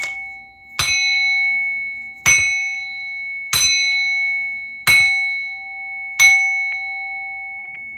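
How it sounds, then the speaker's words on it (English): A bell is struck five times at a steady interval, each strike ringing clearly and decaying slowly into a sustained metallic tone, with no talking. "Somebody did not want me to ring that bell."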